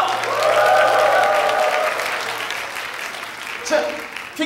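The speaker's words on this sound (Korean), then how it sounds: "여러분, 참가자 여러분들에게 박수 한번 주세요." A studio audience at a makeup festival competition show claps for the contestants, a burst of applause that swells then fades, with talk and voices over and after it.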